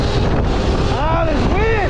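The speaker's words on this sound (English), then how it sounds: "Oh, this wind is so annoying." Constant wind buffets the microphone outdoors as a Surron electric dirt bike with Talaria wheels is ridden, a dense low rumble filling the whole stretch, with brief tonal voice-like sweeps near the end.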